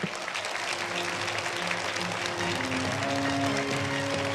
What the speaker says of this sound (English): Please give another big round of applause for First Lady, Her Excellency Maria de Fatima Afonso Villanova.